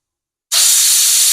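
Steam blasts loudly and steadily from a pressure cooker whistle as sambar cooks, a sudden hissing burst that starts abruptly and keeps rushing without pause.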